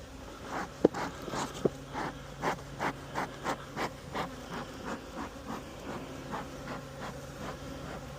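Honey bees buzzing in a hive, a quiet continuous hum with a regular pulsing rhythm and a couple of sharp knocks early on.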